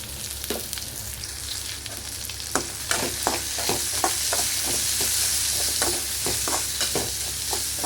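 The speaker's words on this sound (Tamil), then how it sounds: "நல்லா வெங்காயம் போட்டு நல்லா வணக்கி விட்டு கொஞ்சமாக சால்ட் ஆட் பண்ணிக்கலாம்." Onions sautéing in a pan, a steady close sizzle with repeated sharp spatula scrapes and taps stirring them through.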